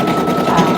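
A sewing machine runs briefly while working on Etsy orders, giving a loud close mechanical whir that lasts under a second.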